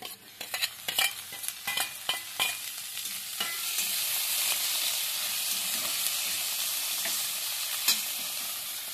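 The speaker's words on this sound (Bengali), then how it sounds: "এবার দিয়ে দিচ্ছি টমেটো কুচানো।" Chopped tomato added to frying onions in a pan gives a loud, continuous close sizzle, broken at first by a run of quick stirring scrapes and clacks, then settling into an even hiss with a single later knock.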